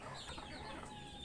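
Chickens raised on a rooftop garden cluck softly at a distance, a faint, short run of low calls with no talk over them.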